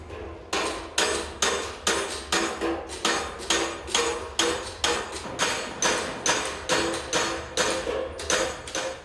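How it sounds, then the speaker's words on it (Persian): Steady coppersmiths' hammering on copper, one sharp ringing strike after another in a fast, even rhythm, close and loud with no voices, in the Kerman bazaar, Iran. "صدای چکش مسگرهایی را بشنوی که در محاصره تکنولوژی هنوز بر همان فلز قدیمی فرود می آیند"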